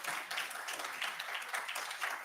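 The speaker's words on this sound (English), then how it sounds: "Yes, you should be clapping for that." A conference audience at a business event applauds. The clapping is steady and fairly faint, heard from a distance in a large room.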